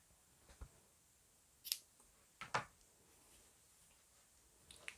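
Scissors snip crochet yarn in a quiet room while a square net bag is finished, a few faint, sharp clicks of the blades spaced apart, with no talking.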